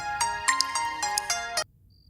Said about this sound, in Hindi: विनय का ही फोन आ रहा है।